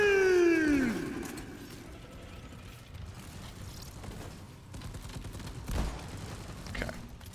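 PGL grenade launcher rounds in Deep Rock Galactic fire and burst, opening with a loud blast and falling whistle, followed by scattered rumbling explosions and low crashes over several seconds.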